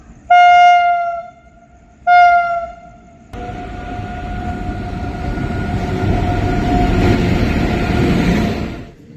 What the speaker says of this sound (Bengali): এখন দুটো পঁচিশ মতো বাজে তো আমাদের লালগোলা ট্রেন দিয়ে দিয়েছে